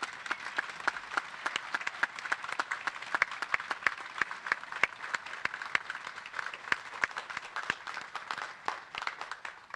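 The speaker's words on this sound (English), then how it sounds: "please join me in a round of applause for our award winners" Audience applause for award winners at a U.S. Army War College graduation ceremony, a steady, dense stretch of many hands clapping that carries on evenly for the full duration without talk.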